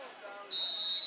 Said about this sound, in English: the officials blare out with whistles